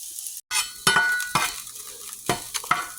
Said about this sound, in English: take a spatula and mix it around to be able to coat all of the sides of it